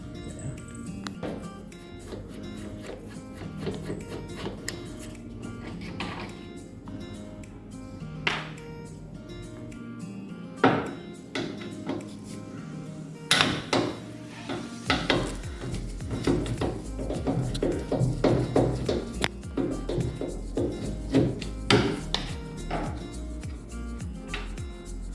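Screws are worked loose and pulled from an Electrolux EWF85743 front-load washing machine, giving scattered metallic clicks, scrapes and knocks at close range, irregular and sharp, with brief quiet gaps between bursts.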